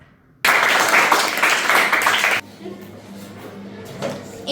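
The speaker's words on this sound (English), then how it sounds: "Clap for a lot." A ninth-grade English class bursts into loud, brisk clapping for a student speaker. The applause cuts off abruptly after about two seconds, leaving a quieter room with faint shuffling and murmurs.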